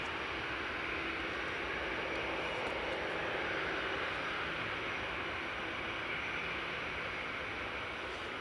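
Aegean Airlines Airbus A320 taxiing in at Newcastle International Airport, a steady, loud jet engine roar with broadband rushing noise that holds evenly throughout, no voices.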